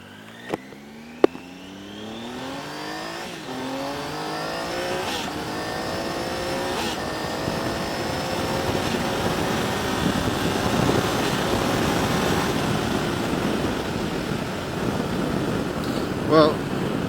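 A Triumph Tiger 800 motorcycle accelerates hard along an airfield road, its engine note climbing steadily through the gears with rising harmonics, close and continuous over wind rush for most of the stretch.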